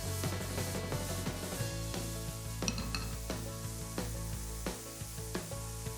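Pancetta fries in a pan with a steady sizzle, close and continuous, while a utensil clinks and stirs against the pan several times over a background of soft music.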